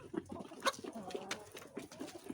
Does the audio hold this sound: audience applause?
no